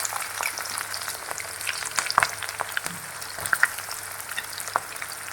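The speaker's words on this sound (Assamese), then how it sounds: "পিঁয়াজখিনি ৰঙা হোৱাকৈ ভালদৰে ভাজি লওঁ।" Onions fry in hot oil with bay leaf and green chillies, making a continuous close sizzle broken by a few sharp pops and light stirring ticks.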